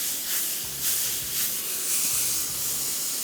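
Chicken cooking over high heat in a pan, giving a steady, close hiss like steam or spray, with a few faint low thumps beneath it and no one talking.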